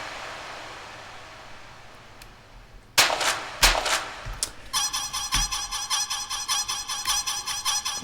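A few sharp bangs give way to a synthesized, clucking chicken-like sound that repeats in a rapid, steady loop.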